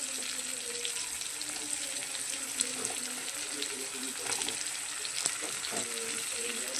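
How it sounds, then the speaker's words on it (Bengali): Potato and eggplant pieces, with onion, frying in oil in a pan for a light curry; a steady, close, dense sizzle crackles without pause, with faint scattered pops and stirring and no talking. "আলুটা ভাজা হচ্ছে বেগুন আলু পেঁয়াজটা একটু ভাজা হবে"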